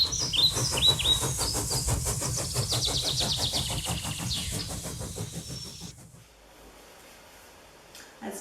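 Birds chirp and tweet over a rhythmic mechanical chugging, then everything drops away to near quiet at the end.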